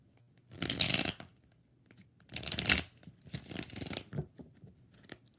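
Tarot cards, a Rider-Waite deck, are shuffled up close in several quick bursts of riffling and papery flapping, separated by short quiet pauses.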